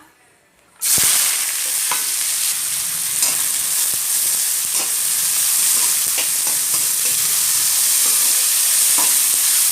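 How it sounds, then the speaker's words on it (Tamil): Onions drop into hot oil for egg curry, setting off a sudden loud burst of sizzling that then holds as a strong, continuous frying hiss with occasional stirring taps. "இப்போ வந்து எண்ணெய் நல்லா சூடாயிருச்சு இப்போ நம்ம வந்து வெங்காயம் போட்டுக்கலாம்"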